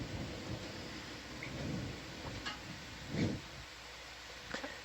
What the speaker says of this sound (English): we need the rain to stop